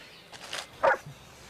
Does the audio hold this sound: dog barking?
yes